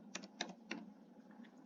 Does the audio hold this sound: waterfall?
no